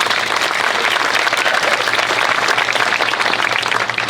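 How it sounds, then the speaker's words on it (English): Steady, dense applause from the audience at a school education center grand opening ceremony, loud and continuous throughout with no voices over it. "Would you give them another round of applause for me, please?"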